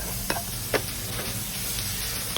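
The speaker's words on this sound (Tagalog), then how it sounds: "Ayan, gisa-gisa lang natin." Onion and tomato with garlic are sautéed in a pan for stuffed squid, a steady soft sizzle broken by a few sharp scrapes of a utensil stirring, with no talking.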